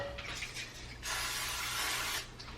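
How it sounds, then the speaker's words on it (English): Olive oil sprayed onto a pan before cooking eggs gives a faint, steady hiss of about a second, quieter mechanical sounds on either side. "I like to use olive oil to spray the pan first."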